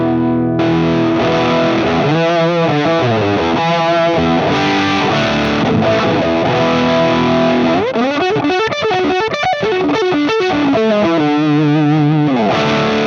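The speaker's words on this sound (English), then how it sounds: "I've moved over to the 3-knob tube drive based on the Butler" Overdriven electric guitar through a Fractal AM4 three-knob tube drive modeled on the Butler Tube Driver, playing a lead line with warm, saturated distortion, sustained notes and quick runs, loud and up close with no voices.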